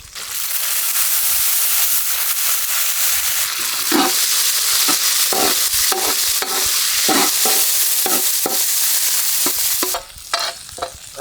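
Onions and pirandai frying in a pan give a loud, constant sizzle, with sharp spatula scrapes and clatters coming in a quick series midway and near the end.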